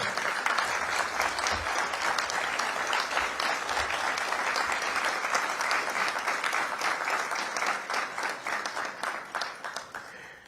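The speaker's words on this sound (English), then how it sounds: "you all applauded because I said the single largest" Sustained, dense applause from a large audience at an executive centre inauguration, steady and loud throughout before thinning slightly at the end.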